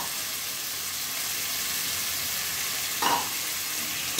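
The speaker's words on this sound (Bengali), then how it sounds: "এবার আমি এর মধ্যে মাশরুম আর আলুটা দিয়ে দেবো" Mushrooms and potatoes fry in a pan with a steady, even sizzle throughout, and a brief clatter of stirring cuts in about three seconds along.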